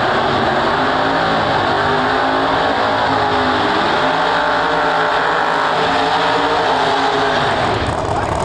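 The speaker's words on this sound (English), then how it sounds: "next up we got Lizzy in the right lane going up against Giuseppe in the left lane" No-prep drag race cars at a Street Outlaws No Prep Kings event in Eagle, Idaho roar down the strip, a loud, dense, continuous engine blast with a broad rumble that holds for the whole stretch.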